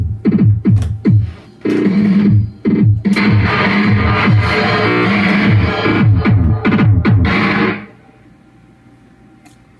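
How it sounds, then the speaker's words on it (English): A phone drum loop runs through a guitar amp with heavy distortion, giving thick, crunchy rhythmic hits in a steady pattern that play loud and alone for about eight seconds before cutting to a faint hum. "I'm literally going to take my phone"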